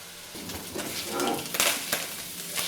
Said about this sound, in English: that's all frying off really nicely at the moment, becoming nice and crispy